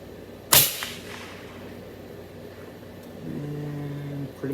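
A single sharp rifle shot fired at a target while zeroing a scope, loud and close, followed by a quiet outdoor lull and faint background hum.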